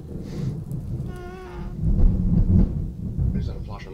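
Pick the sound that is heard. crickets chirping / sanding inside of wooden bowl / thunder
thunder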